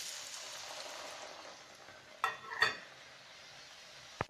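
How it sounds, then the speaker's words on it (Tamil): Murukku frying in hot coconut oil, a steady close sizzle and bubble throughout, broken by a couple of brief clinks and scrapes of a utensil near the pan, with no talking. "இப்போ நம்ம சூடான அப்புறம் இப்போ முறுக்கை போட்டுடலாம்."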